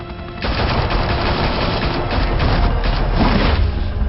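Video game gunfire in a Batman game: a dense, loud burst of rapid automatic shots and booms rolls continuously for about four seconds.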